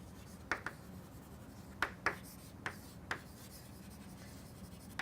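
Pen or chalk writing notation by hand, faint scratchy strokes in short separate bursts with quiet gaps between them.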